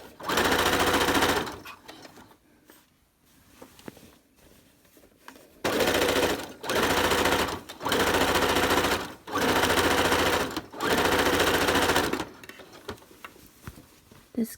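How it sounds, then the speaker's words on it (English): A sewing machine stitches along the sides of a ribbon skirt to form an elastic casing, running in one opening burst and then four loud, close, even runs separated by short pauses, with no voices. "we're going to sew right along the sides here"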